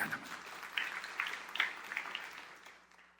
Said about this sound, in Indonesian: Tepuk tangan yang meriah untuk kemuliaan